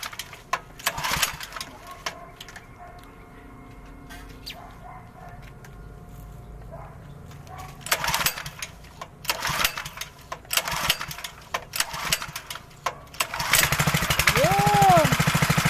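A small petrol engine on a farm power sprayer runs steadily with a rough, buzzing drone, surging louder near the end, while voices talk now and then over it.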